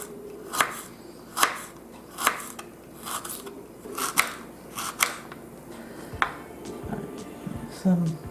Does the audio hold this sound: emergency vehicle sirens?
no